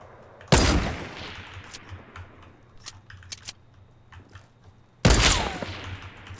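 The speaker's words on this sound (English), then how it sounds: "I just shot my own ramp" Gunfire in Fortnite striking a built ramp: two sharp, loud shots several seconds apart, with scattered clicks and small impacts between them.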